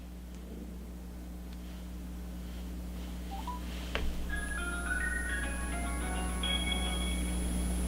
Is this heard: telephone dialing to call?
yes